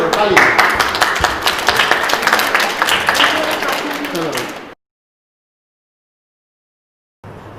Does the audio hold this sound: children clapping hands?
yes